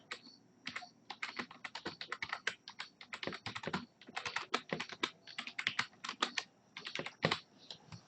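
Fingers type a folder name on a computer keyboard, producing a close, crisp run of rapid key clicks in quick bursts with short pauses, continuing steadily with no voices over it.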